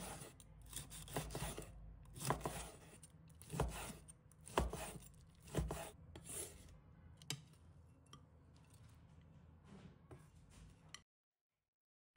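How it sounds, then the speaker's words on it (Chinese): A knife slices cooled pork neck into thick slices on a cutting board, a steady series of close chopping thuds, each one distinct, going on for several seconds before falling silent. "放凉后，我们将猪颈肉切成厚片"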